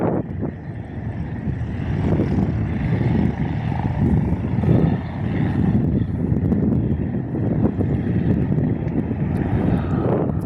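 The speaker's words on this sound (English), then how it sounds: "Got a little Piper going out to the touch and go runway." A little Piper light aircraft taxis toward the touch-and-go runway on a windy day, its propeller engine droning steadily at a distance under heavy wind rumble on the microphone.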